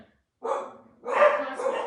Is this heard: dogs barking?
yes